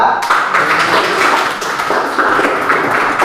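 An audience of teachers in a classroom session claps for group 2, a dense, steady burst of applause filling the room for several seconds.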